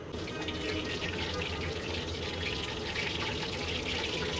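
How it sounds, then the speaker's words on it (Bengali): Batter-coated loitta fish frying in hot oil in a wok, a steady dense sizzle and crackle that holds even and close throughout without pause. "এখন এই মাছগুলাকে ব্যাটার লাগানো অবস্থায় এর মধ্যে দিয়ে দিয়ে ভেজে নিব"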